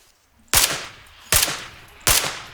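Three single gunshots in PlayerUnknown's Battlegrounds, fired at an even pace about a second apart, each a loud sharp crack with a short trailing echo, no voices.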